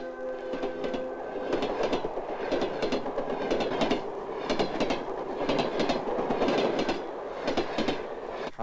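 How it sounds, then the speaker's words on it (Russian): A train rumbles past with steady clickety-clack of wheels on rails, loud and continuous, with a faint whistle-like tone early on. "О чем думают эти дети, глядя на проходящие мимо их жизни поезда?"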